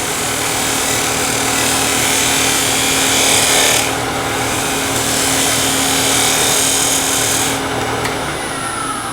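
Scraper working over the inside of a turned wooden bowl on the lathe: a steady, close, loud rasping hiss continues unbroken, with the spinning lathe's hum beneath and slight swells as the tool moves.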